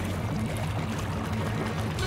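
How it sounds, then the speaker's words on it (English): In a cartoon, water from a duck pond drains steadily down a pipe spout with a continuous rushing, gurgling pour and a low rumbling undertone. "The water must have gone down that pipe spout."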